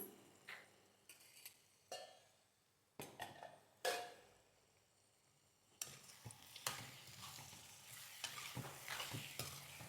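Chicken liver gravy with yogurt being stirred in a pan, with a soft sizzle under repeated spoon scrapes and clinks against the pan, close and fairly quiet, growing busier toward the end.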